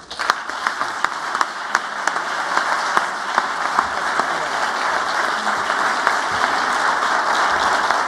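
Steady audience applause welcoming Ivanka Trump, a full room of clapping that holds evenly throughout with no talk over it.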